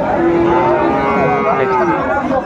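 A Sahiwal breed bull lows close by on a farm in Kurigram, one loud sustained moo of about two seconds that bends slightly in pitch, heard clearly with little else around it.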